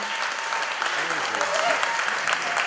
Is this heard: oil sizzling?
no